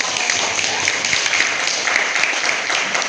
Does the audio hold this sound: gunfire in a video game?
no